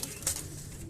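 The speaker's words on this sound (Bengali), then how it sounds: "কয়েকটা পায়রা উঠেছে" Pigeons in a home loft housing fantail and flying pigeons, giving a faint low coo or two over quiet background hiss, with a brief brighter flutter-like burst early on.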